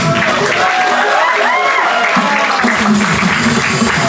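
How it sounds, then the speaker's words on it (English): Audience applause at a Yap presentation during EXPO 2026 in Pohnpei, loud sustained clapping with crowd cheers and voices mixed in, continuous from start to finish. "Round of applause."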